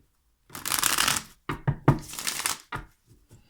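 Close, crisp riffling and bridging of a deck of tarot cards in several quick bursts, the first long, then shorter flutters and taps, no talking.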